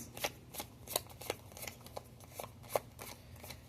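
Oracle cards are shuffled by hand close up, giving a series of soft, crisp riffling flicks at an irregular rhythm over a quiet background.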